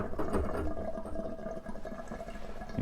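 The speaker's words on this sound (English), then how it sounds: "You can hear the water." Water draining and gurgling through the piping of an A.O. Smith electric water heater during installation, a steady close rushing flow with a faint mechanical hum.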